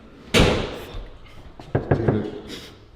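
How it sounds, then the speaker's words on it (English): A door is shut nearby with a sharp slam, followed by a few lighter knocks and taps as people talk quietly in the room. "Did he shut the door?"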